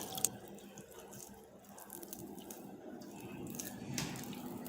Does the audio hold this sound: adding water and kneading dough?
yes